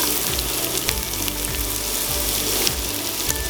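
Onions sizzle in a pan with roasted chickpeas and chopped ginger while upma is cooked, a loud, steady frying hiss with occasional stirring scrapes throughout.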